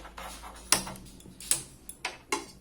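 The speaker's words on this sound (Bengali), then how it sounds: "গ্যাস অন করে নেব।" Gas stove igniter in a kitchen clicking sharply several times, separate ticks spaced through a short quiet stretch, close and fairly faint, with no voices.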